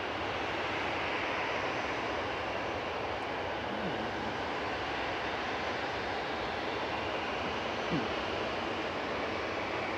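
Aer Lingus Airbus A320 jet airliner at Manchester Airport, heard as an even, distant engine roar holding steady throughout without clear peaks.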